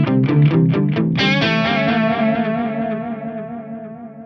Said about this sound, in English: that is a tape delay preset that I really like in the H9